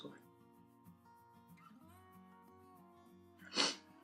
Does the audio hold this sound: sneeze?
yes